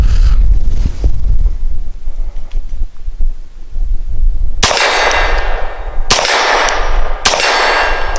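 Three loud, sharp pistol shots from a Langdon Tactical 92 Elite LTT firing light 94-grain Gecko Super Matrix copper composite rounds, each followed by a ringing clang of steel, outdoors with wind rumbling between them.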